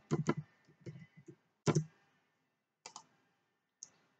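Computer keyboard typing while entering text into a PowerPoint slide, heard as a few short bursts of close clicks separated by pauses, with no talk.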